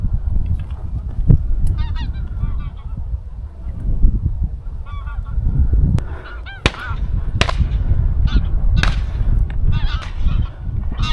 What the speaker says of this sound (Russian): И вот, пока Сергей наблюдал за высоко пролетающими гусями